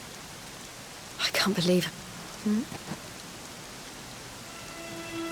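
Steady rain hisses through a Dragon Quest XI game scene as a continuous broadband wash, with a few brief voiced speech bursts on top.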